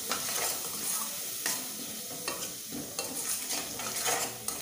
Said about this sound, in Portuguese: Eu vou deixar, meus amores, essa cebola, ela dá uma murchada aqui,